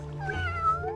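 A cat meows once in the Minecraft game world, a single clear, fairly quiet mew that rises and falls over a low background hum.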